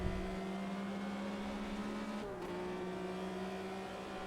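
A 1977 Porsche 911 RSR race car engine drones at sustained high revs in a racing video game, holding a steady tone that dips briefly mid-corner before resuming, with no voices.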